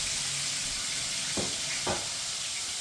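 Bone-in pork chops searing in a hot pan give a steady, close sizzle that hisses evenly throughout, with two brief louder spits partway through and no talk.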